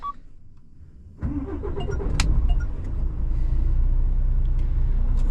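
A long-haul truck's engine turns over about a second in, then settles into a loud, steady, close-up idle as it warms up, with a low rumble throughout.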